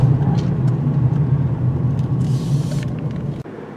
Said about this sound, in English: this is an excellent engine. Pulls from low RPM, pretty smooth and quiet